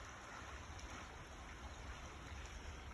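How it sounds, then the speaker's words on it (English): Small waterfall spilling in a rain-swollen farm creek fed by springs, a steady faint wash of falling water with a soft hiss, continuous and even, heard from a short distance with no talk. "You can hear a little waterfall down there."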